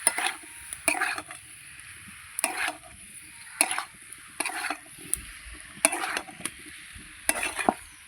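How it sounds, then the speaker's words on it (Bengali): Jackfruit and spiced potatoes being stirred and fried together in a pan: a spoon scrapes in repeated bursts roughly every second, over a faint steady sizzle, close and without talk. "এবার এঁচোড়টার সঙ্গে মশলা আলু একসঙ্গে ভালো করে মিশিয়ে নেব।"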